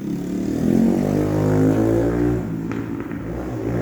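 Small sport bikes pass along the road, a buzzing engine drone that swells and holds loud, then slowly fades away as the bikes recede, with no talk.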